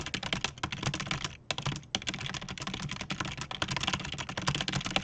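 Fast, dense typing on a computer keyboard, a steady stream of crisp clicks and clatter with a brief pause near the middle, close and alone without any voices.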